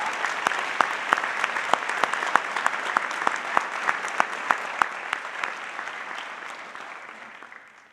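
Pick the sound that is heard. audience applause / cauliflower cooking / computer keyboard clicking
audience applause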